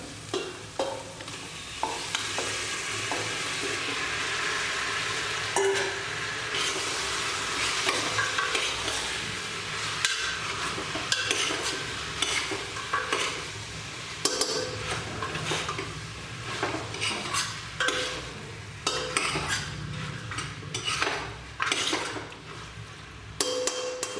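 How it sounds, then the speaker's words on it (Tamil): Chicken pieces for biryani fry and sizzle in a pan while a spoon stirs and scrapes, giving irregular metallic clatters over a continuous hiss, close and fairly loud. "இப்போ சிக்கன் போட்டுக்கலாம்"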